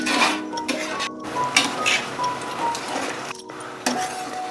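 A spoon stirs pumpkin payasam sweetened with jaggery in a metal pan, giving irregular close clinks and scrapes against the pan's side with brief pauses between strokes.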